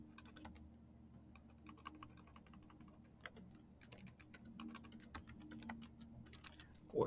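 Typing on a computer keyboard, a quiet, irregular patter of individual key clicks in quick runs with brief pauses, close and alone, ending in a louder clack.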